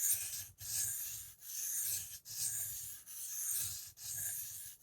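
A battered Bob Dozier AUS-8 knife blade is drawn back and forth across a sharpening stone, each close, steady scraping stroke followed by a brief pause, repeating at a relaxed, metronome-like pace.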